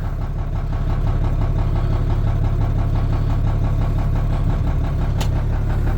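An International dump truck's DT466 diesel engine idles loud and close with a steady low rumble while the hydraulic bed lowers, the drone unbroken apart from one faint brief tick.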